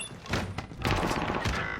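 Gunfire in Call of Duty: Modern Warfare, a dense burst of overlapping shots and thuds with no gap in the noise, loud and close, with no speech.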